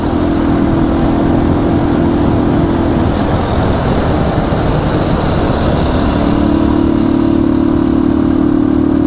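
A motorcycle engine drones steadily throughout a ride, loud and close, with a low hum and a constant mid-pitched whine that shifts slightly partway through, and no talk.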